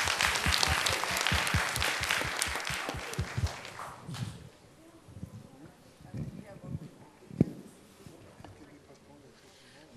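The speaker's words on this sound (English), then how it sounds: "can we have a round of applause for everyone on the panel?" Audience applause for a panel at the close of a networking session for PhD students, loud dense clapping for about four seconds, then fading into scattered claps, shuffling and faint voices.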